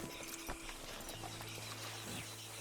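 Horse hooves clip-clop in Red Dead Redemption 2, a quick uneven run of soft hoof strikes over a steady game ambience with a low droning tone, no talking.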